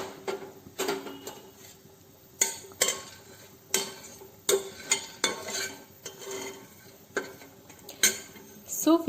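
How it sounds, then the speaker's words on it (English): Cumin seeds and dry red chilies roast in a dry pan with no oil, giving scattered close clinks and scraping taps from stirring at an uneven rhythm over faint low background noise. "So we have added jeera and dry red chilies and will roast it for some time."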